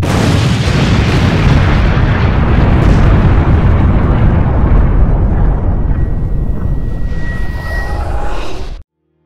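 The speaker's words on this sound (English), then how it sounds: "They all knew there was only one place that an explosion like that could come from." A massive explosion roars as one loud, sustained rumbling blast that fills the space for several seconds, slowly thins out, then cuts off abruptly.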